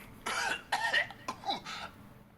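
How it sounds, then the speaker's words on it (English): Batrider, a hero in the video game Dota 2, coughs in four separate harsh, raspy bursts over about two seconds, loud and close, with no talk. "That was him coughing"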